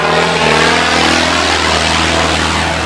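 Loud, close engine of a modified 120 hp Holland tractor running steadily with a deep rumble and rising rev, droning continuously without pause.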